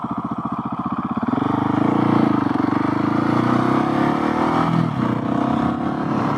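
A Husqvarna 701SM motorcycle engine revs during a wheelie in second gear, rising from a throbbing idle to a loud, sustained roar close by.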